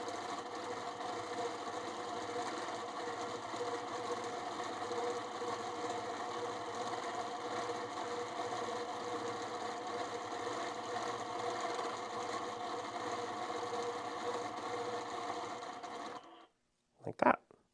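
A long-arm quilting sewing machine stitches a fabric panel in a continuous, steady, fast mechanical hum, close and even, before stopping abruptly near the end, followed by a brief knock.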